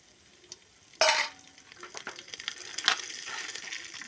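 Bay leaf, ginger, cinnamon, cloves and dried fenugreek leaves dropped into hot oil for chicken biryani, a sudden loud burst of sizzle after a quiet start, then crackling and stirring scrapes that rise again, close by.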